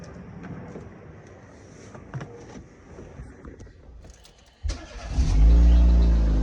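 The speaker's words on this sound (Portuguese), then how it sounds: "É barulho certinho de válvula, cara. Parece que tá batendo válvula." A car engine with a valve knocking fault cranks and starts after a few seconds of quiet background noise, then settles into a loud, close idle with a rough, rattling undertone.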